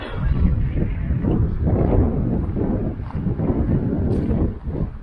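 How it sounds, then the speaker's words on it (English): Strong wind buffets the microphone beside Goldwater Lake, a steady loud rumbling roar with gusts that swell and ease, no voices present. "It's really breezy today."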